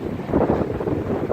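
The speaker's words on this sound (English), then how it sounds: "you can probably see and hear that it's really windy out here" Strong wind buffets the microphone outdoors beside a closed Sears Auto Center at a shopping mall, a steady loud low rumble of gusts throughout the short stretch with no voices.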